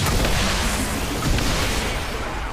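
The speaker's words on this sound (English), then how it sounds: "Did not think about the explosion." A loud explosion in the video game XCOM 2, a heavy booming roar with dense rumble that fills the whole moment without any gap.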